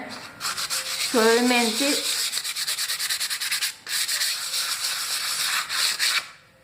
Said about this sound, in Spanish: Lo que voy a hacer primero es lijar con una lija fina